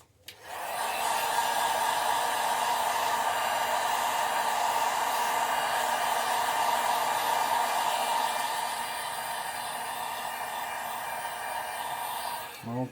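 A hair dryer or heat gun blows steadily and loudly for about twelve seconds while heat-setting fresh paint on a custom crackle bass pattern crankbait, easing slightly in level near the end.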